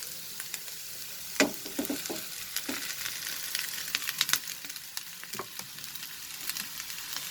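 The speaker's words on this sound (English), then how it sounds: "Now we will add the boiled rice." Boiled rice goes into a hot pan over high flame for chicken fried rice, with a continuous loud sizzle and scattered scraping and tapping from the utensil, no speech.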